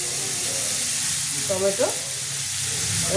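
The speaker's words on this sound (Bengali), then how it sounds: "চিকেনটাকে ভালো করে এটার সঙ্গে ভালো করে কষিয়ে নেবো" Chicken and tomato sautéing in a pan for a chicken roll filling, a loud continuous close sizzle with a couple of brief stirring scrapes near the middle.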